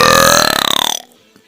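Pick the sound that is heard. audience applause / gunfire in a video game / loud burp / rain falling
loud burp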